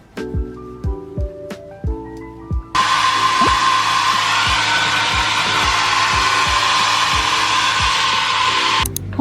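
A hair dryer blows hair with a loud, steady whooshing whir that runs for about six seconds, after a few short plucked musical notes.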